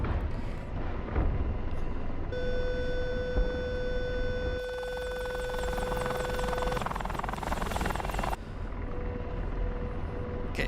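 A helicopter in the DCS flight simulator runs with a loud, continuous rotor and engine roar, while high warning tones sound for several seconds and then cut out.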